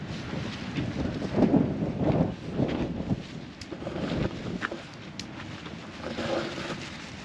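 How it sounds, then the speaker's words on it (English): Wind gusts across a campsite at Red Rock Canyon, a soft, uneven low roar of rising and falling rushes with microphone buffeting and no talk. "Don't you see it's windy?"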